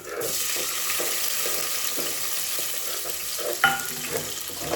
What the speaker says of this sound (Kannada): ಇವಾಗ ಈರುಳ್ಳಿ ಹಾಕ್ತಾ ಇದ್ದೀನಿ